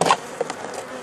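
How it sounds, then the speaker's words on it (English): Honeybees buzz beneath a hive feeder as they wait for syrup, a close, steady insect drone over about a second with a brief louder burst at the start. "Bees are underneath waiting for their syrup."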